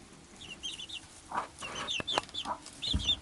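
A mother hen clucks in soft, repeated calls to her chicks at the roost, with faint high peeping from the chicks scattered throughout, close and fairly quiet.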